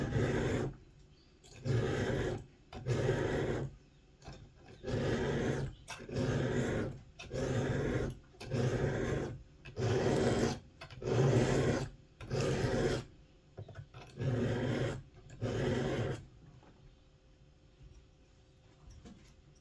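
Single bevel being sharpened on a Tusker Concord broadhead with a file, about a dozen steady rasping strokes, each roughly a second long, close and moderately loud with no voices.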